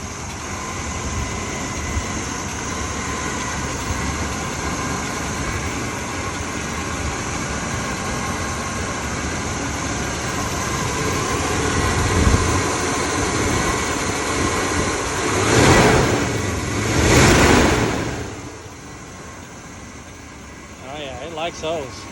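A 1977 Chrysler New Yorker's 440 V8 engine idles steadily with a low rumble, swelling into two brief revs near the end, with some voices in the background.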